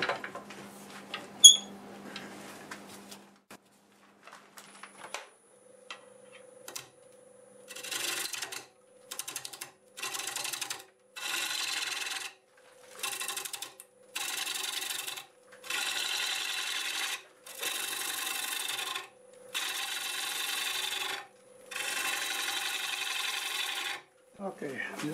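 A 5/8 bull gouge cuts a cracked English walnut blank spinning on a wood lathe, rasping in about a dozen steady bursts separated by short pauses, after a quieter start with small knocks.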